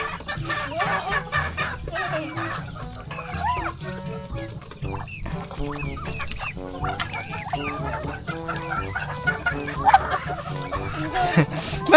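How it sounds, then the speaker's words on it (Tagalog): Chickens cluck and squawk steadily at a fishpond, a busy overlapping chorus of short calls from nearby, with occasional voices in the background. "Kaya po binabantayan yung mga manok."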